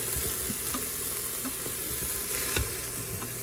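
Garlic sizzling in oil inside an Instant Pot, a steady close hiss of frying with scattered pops and light stirring taps throughout, no talk.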